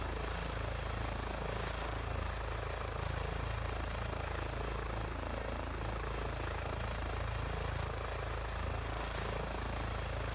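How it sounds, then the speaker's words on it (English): An EC145 air ambulance helicopter flies in Microsoft Flight Simulator, a continuous, even rotor and turbine drone heard up close and filling the whole stretch without any talking. "Takes a little bit of practice to try and maneuver this helicopter"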